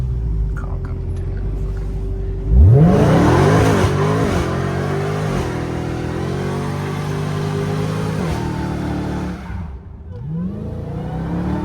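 A Dodge Challenger Hellcat Redeye roars up close with a rising supercharged rev, holds a loud throaty engine drone for several seconds, then dips and revs again. Voices talk underneath.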